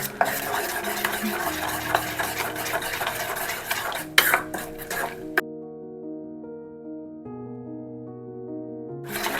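Fish pakoda batter mixed with two tablespoons of cornflour, with busy wet stirring and utensil clinks against the bowl for about five seconds, then a stretch of quiet music before the stirring resumes briefly at the end.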